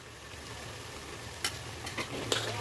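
Cumin and ginger paste sautéing in oil for a jackfruit and liver dish, giving a soft continuous sizzle with a few light stirring scrapes and taps.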